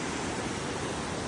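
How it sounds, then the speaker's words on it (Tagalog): Bridal Veil Falls on Kennon Road pours in a steady broadband roar of falling water, loud and close, with no break or change through the short stretch and no voices. "ito yung waterfalls"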